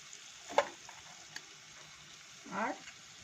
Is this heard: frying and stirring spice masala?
yes